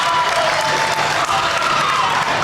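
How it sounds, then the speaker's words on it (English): Crowd at a high school basketball game between the ACGC Chargers and Atlantic Trojans applauding the starters, a dense steady round of clapping filling the gym, with a faint voice underneath. "the starters get a nice round of applause"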